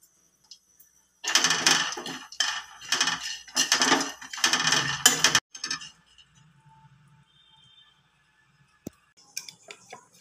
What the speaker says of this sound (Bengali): এবার এই মশলাগুলো দিয়ে দিচ্ছি হালকা রোস্ট করে নেবার জন্য